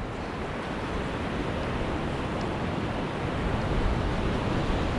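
Steady, loud wind rushing across a Myrtle Beach shoreline on a breezy morning, with surf noise blended into a constant broadband roar that never lets up.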